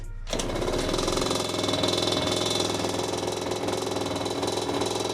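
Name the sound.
Gilera SMT Racing motorcycle engine starting and running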